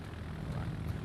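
Carrier aircraft in World of Warships, flown by a Hakuryu Tier 10 Japanese carrier, drone on with a low, steady propeller engine hum throughout a brief stretch, without any talking.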